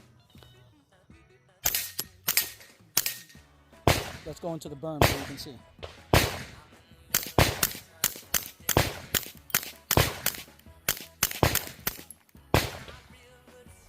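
Taurus TX22 pistol fitted with a HUXWRX Flow 22 Ti suppressor firing supersonic .22 rounds, a long string of sharp, close, suppressed cracks in rapid bursts, with someone talking briefly at the start.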